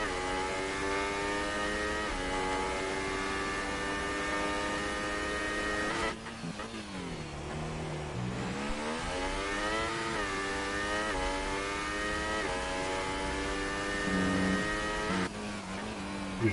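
A Formula One car engine in the F1 2018 racing game at Austria revs high and steady, with a sharp drop and dip as it shifts and brakes before climbing again, loud and continuous.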